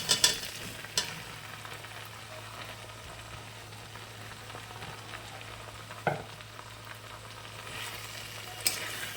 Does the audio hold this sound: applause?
no